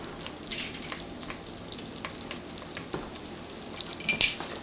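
Minced garlic goes into a pan of onion already frying for homemade tomato sauce. There is a steady mild sizzle with scattered utensil taps and clinks against the pan, close up and without speech, and a sharper clatter near the end.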